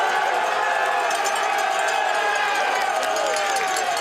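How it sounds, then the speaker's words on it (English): Race crowd at the Namur cyclocross World Cup roars loud and continuous, with cowbells ringing among the cheering and a commentator talking over the din. "The crowd are going pretty crazy right now."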